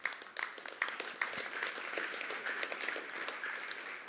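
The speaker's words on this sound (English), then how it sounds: "And thank you for the applause" An audience claps at a sheep genetics strategy presentation. The applause is a moderately quiet, continuous patter of many hands, heard from a distance, with a few sharper claps near the start.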